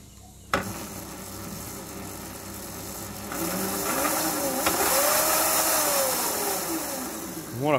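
Electric motor of a Razor Pocket Mod scooter upgraded to lithium cells, starting with a sharp click, then a steady whine that rises and swells as it runs, near and moderately loud.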